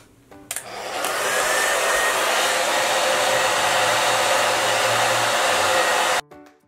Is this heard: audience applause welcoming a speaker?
no